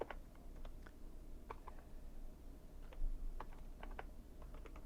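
Code is typed on a computer keyboard in quiet, irregular bursts of soft key clicks and taps, faint and close, with no talking.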